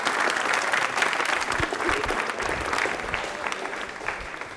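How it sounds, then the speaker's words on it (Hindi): Studio audience on a Hindi quiz show applauds a correct answer, a dense, steady round of clapping that holds loud and even from start to finish with no voices over it. "फाइनली तालियां बजा दीजिए एक बार"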